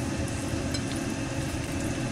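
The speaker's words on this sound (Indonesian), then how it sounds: "Kita akan aduk ya." Chicken and mushroom stew with oyster sauce, soy sauce, sugar and cornstarch being stirred in a pan, a steady close sizzle with soft scraping and bubbling throughout, no talk.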